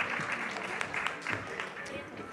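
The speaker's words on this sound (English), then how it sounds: "Please give a round of applause to everyone who took the stage." Audience applause at a leaders' summit session, a fairly soft, steady patter of many hands clapping, heard at a distance and continuing throughout.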